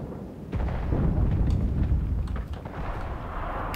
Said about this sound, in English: Oh, that was a Panzerfaust or something.